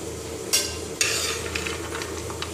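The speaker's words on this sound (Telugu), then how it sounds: "ఇవి కొంచెం ఇలా లైట్గా హీట్ చేసుకుంటున్నాను నేను" Dry fruits being lightly heated and stirred in a pan on a stove make a low, faint sizzle, broken by two sharp clinks of a spoon against the pan and scattered small scraping knocks.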